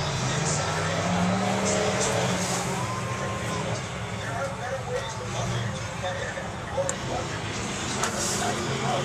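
Figure 8 race cars lapping the track at Perris Auto Speedway's Night of Destruction, a continuous roar of engines over a steady wash of crowd and track noise, with a voice speaking over the loudspeaker.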